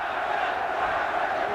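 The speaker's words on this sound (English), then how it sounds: "Now the crowd begins to implore TYSON" Boxing crowd at a live 1986 Tyson versus Tillis fight, a dense, steady roar of many shouting voices filling a large arena, loud and continuous throughout.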